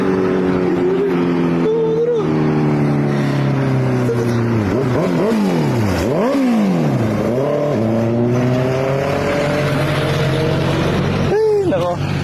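A car passes by on a road, its engine note rising and falling as it approaches and recedes, with several rev swings and a roar that stays loud throughout.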